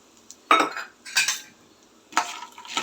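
Peanuts and chana dal roasting in a dry pan for palli chutney, heard as a few sharp metallic scrapes and rattles of a spoon stirring against the pan, separated by quiet gaps.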